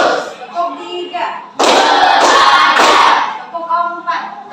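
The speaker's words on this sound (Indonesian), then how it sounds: "Tepuk tiga." A classroom of children claps a patterned rhythm in unison, a loud burst of clustered claps set between a teacher's short spoken prompts.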